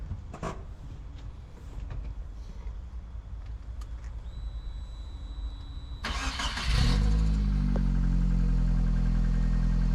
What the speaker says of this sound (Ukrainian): Давайте я зараз її заведу.